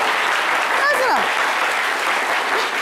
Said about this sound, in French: Mais applaudissez.